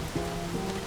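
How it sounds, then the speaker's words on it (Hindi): Heavy rain pours down in a steady, dense wash of noise, close and continuous, with no voices over it. "इतनी बारिश हो रही है, कहाँ जाओगी तुम?"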